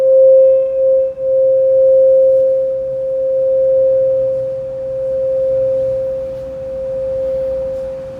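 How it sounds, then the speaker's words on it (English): A singing bowl rings out after a yoga class in a church, one pure sustained tone that slowly fades and wavers gently, heard alone and fairly loud. "Enjoying the sound of this bowl until it speaks no more."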